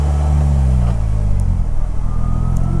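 A Polaris Slingshot's engine idles low and steady, then settles into a smooth, even drone as the manual clutch is let out, close and continuous with no jerk or surge.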